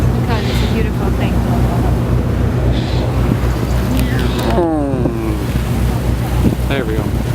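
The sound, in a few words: boat travelling up the Krka river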